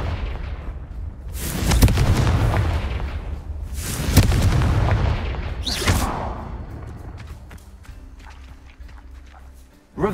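Repeated Confringo blasting-spell explosions in Hogwarts Legacy, loud booming bursts at roughly two-second intervals with crackling debris between them, followed by quieter game ambience and a sharp burst at the end.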